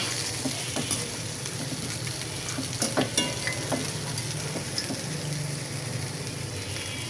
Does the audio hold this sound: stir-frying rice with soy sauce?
yes